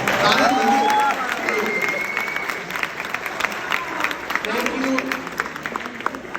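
Audience applause for a poet at a Hindi comedy poetry recital, a dense continuous patter of many hands with a few voices and tonal sounds above it, loudest at the start and easing slightly.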